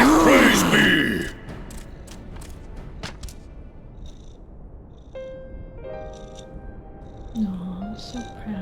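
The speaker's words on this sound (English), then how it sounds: "I'm sorry if you hear her purrs." A loud opening burst of noise gives way to a soft, steady low purring from a cat, with scattered clicks and faint tonal sounds over it.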